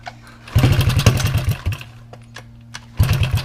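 A Honda XR50 pit bike runs loud with a straight pipe exhaust. It gives a sharp burst of rapid, popping revs, drops back to a rough idle, then blips the throttle again at the end.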